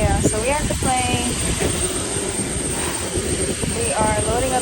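A charter plane sits nearby during catering loading on a windy apron, its engine giving a loud, steady whine and roar throughout while people talk over it.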